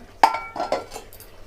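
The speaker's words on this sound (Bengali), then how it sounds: "আমরা ঢাকাটা খুলে দেখে নেব।" A metal lid lifted off a pot of Bengali tangra fish curry, with a sharp clink followed by a few lighter metallic knocks and rattles, close by and alone.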